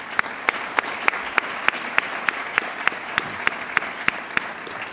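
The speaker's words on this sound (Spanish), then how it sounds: "Un aplauso para todos, por favor." An audience at a Puerto Rico presentation on corporate corruption gives applause, heard as a regular rhythm of about fifteen sharp, evenly spaced claps over a soft background wash, fairly close and without talk.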